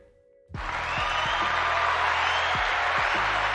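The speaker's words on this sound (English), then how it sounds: "Those claps go to you." A sudden swell of applause from a crowd, many hands clapping densely and steadily for several seconds without pause.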